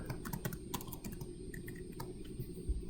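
Typing on a computer keyboard to enter text into a digital sticky note, a steady run of close, crisp key taps lasting a few seconds with no talking.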